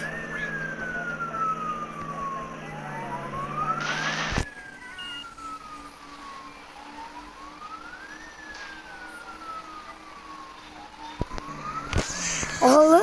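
A police siren from a stolen police car in the video game Rope Hero wails in long rising and falling sweeps throughout, steady and fairly close, with a brief burst of engine or crash noise near the end.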